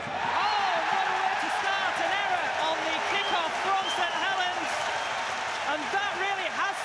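Crowd at a Super League rugby league playoff quarterfinal, Warrington Wolves against St Helens, roaring and cheering as play begins: a steady, loud wash of stadium noise with whistles and shouts, a commentator's voice running over it.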